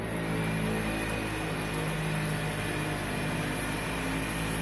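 A Dyson Cinetic Animal canister vacuum running over a messy carpet, a steady close whine and whoosh of suction with no break.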